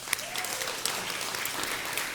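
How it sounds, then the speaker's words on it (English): Steady audience applause fills the room at a fireside chat event, a dense wash of clapping hands at moderate loudness with a few sharper claps standing out, no voices over it. "Please give her a round of applause."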